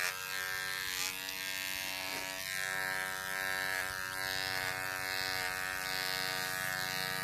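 Electric hair clipper buzzing continuously and close while shaving a head bald, a steady drone with small shifts in pitch as it moves through the hair.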